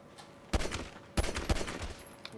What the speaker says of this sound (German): Oder ich schieße dir voll im Gesicht.